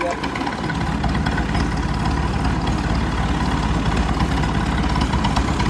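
A heavy tractor engine runs steadily throughout, a constant low rumble with rattling vibration, close and loud, with no pauses.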